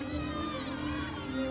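Collegiate gymnastics teammates at an Arizona at Iowa State meet keep up steady background cheering, a dense wash of shouting voices behind a speaker talking over the arena noise.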